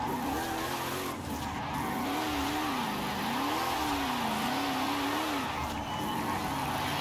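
A wagon in Forza Horizon 5 drones along with a wavering engine note while its tires squeal and skid continuously, loud and close throughout.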